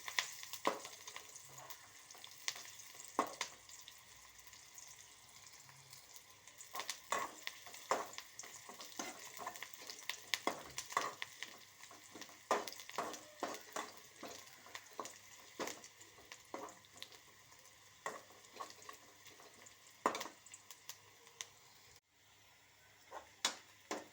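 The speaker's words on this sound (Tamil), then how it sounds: "இப்போ வெங்காயம் நல்லா வணங்கிருச்சு" Onions frying in a pan give a soft, close, continuous sizzle, broken by frequent scraping stirs and occasional utensil taps.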